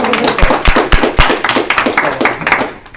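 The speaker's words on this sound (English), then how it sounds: "I probably should clap for the people actually, right?" Audience clapping for presenting groups at an experience design presentation review, a few distinct hand claps mixed into scattered room applause, fairly close and steady across the short stretch.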